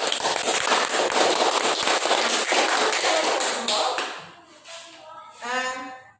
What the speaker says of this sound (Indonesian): Ya, tepuk tangan untuk kelompok roh.